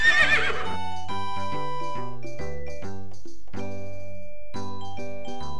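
A horse's neigh from the Dora V.Smile video game, a brief whinny at the start followed by bright chiming game jingles and melodic tones.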